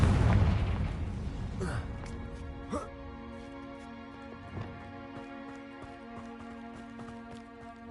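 A Confringo spell explodes in the video game Hogwarts Legacy, a heavy boom that fades into a ringing, humming decay with a few smaller pops, while a voice speaks over it.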